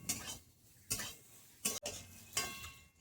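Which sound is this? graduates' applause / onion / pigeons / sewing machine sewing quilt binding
onion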